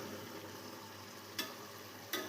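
Spice powders stirred into chicken biryani frying in a pressure cooker, a soft, low sizzle with two sharp scraping knocks from the spoon near the end.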